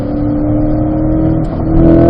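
Race cars accelerating onto the front straight at Spring Mountain, a loud, steady engine drone with a sustained whining tone that swells slightly near the end, with no talking.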